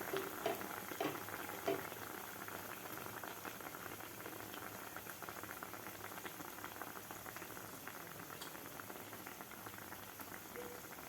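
Batter-dipped bread hits hot oil for Kolhapur-style masala toast, setting off a steady, dense sizzle and crackle that stays even throughout, close and moderately loud with no talking.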